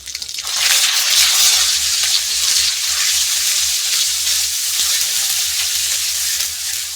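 A ginger and cumin paste fries in hot oil in a home kitchen, giving off a loud, steady hiss and crackle that continues unbroken with no talking.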